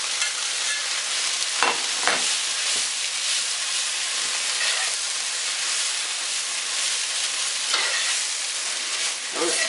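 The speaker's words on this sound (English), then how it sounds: "I'm going to saute them a bit first" Stinging nettle greens sauté in a hot pan with a continuous sizzling, frying hiss, broken by a few stirring scrapes, close up and with no talking.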